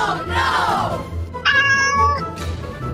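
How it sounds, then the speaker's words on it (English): A cat gives a few loud, close meows, including one drawn-out tonal cry in the middle, over faint background murmur. "We found the cat again!"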